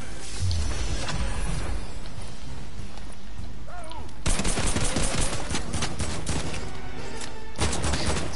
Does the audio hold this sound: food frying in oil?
no